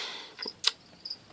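Edible crickets in a breeding tub, with a few short, high chirps and a sharp tap among them, close and fairly faint over a quiet background.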